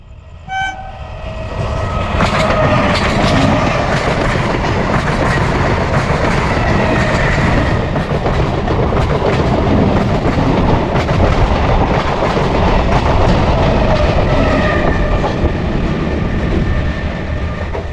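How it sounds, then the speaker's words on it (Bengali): A train rumbles loudly over a bridge, a sustained roar with rattling wheels and clatter, a horn sounding briefly at the start, continuing close and dominant throughout. "সাউন্ডটা দেখেছো জাস্ট, ব্রিজের উপর দিয়ে গেল"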